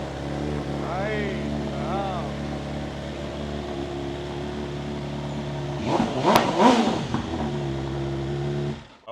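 A BMW S1000RR motorcycle fitted with an aftermarket exhaust idles with a deep steady rumble, then gets a couple of sharp throttle blips and revs near the end, while someone talks over it.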